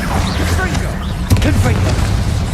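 Bombarda blasting spell explosion in Hogwarts Legacy, a sudden loud blast in the middle of busy combat, with voices and battle effects sounding around it.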